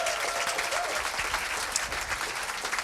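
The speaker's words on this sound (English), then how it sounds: "Give them a big round of applause." An audience at a live comedy show in South Shields applauds, a dense, steady clapping that fills the space throughout, close and loud, without voices over it.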